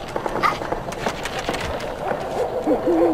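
An owl in the video game Never Alone gives a few soft, low hoots toward the end over rustling game ambience and light tapping, with a voice faintly present.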